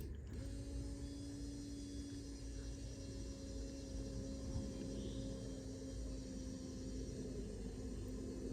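An inline fuel pump runs on a Volvo 242, a steady faint electric whine with a second tone above it, droning on evenly without a break.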